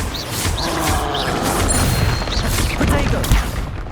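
A crashing, crackling impact from an Expelliarmus spell in Hogwarts Legacy, with dense rattling bursts and sharp hits layered over several seconds of combat noise.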